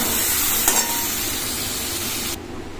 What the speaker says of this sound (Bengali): এটাকে খুব ভালো করে কষিয়ে নেব এবার